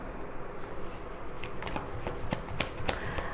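Tarot cards shuffled and drawn by hand, a soft papery riffle with a run of crisp flicks and slaps, close and fairly quiet, no talking.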